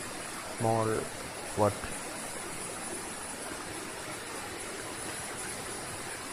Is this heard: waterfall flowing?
yes